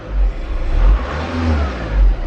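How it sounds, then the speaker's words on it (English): A Volkswagen TDI diesel engine revs in short rises and falls, with a deep, close rumble swelling twice, while no turbo whistle stands out above the low drone. "I also kind of drove it around and rev the engine"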